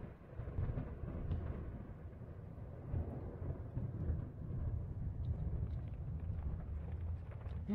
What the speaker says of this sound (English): Investigate storm. It's just a storm.